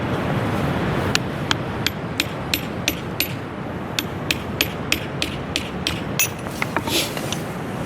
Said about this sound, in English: We'll see if we can split that one with chisel.